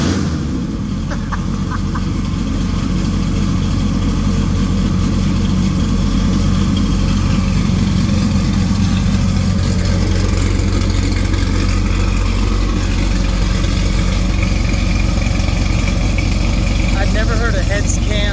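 Dodge Viper V10 with upgraded heads and cam idling after a cold start, a loud, lumpy, uneven rumble with choppy low pulses, while people talk nearby over the engine.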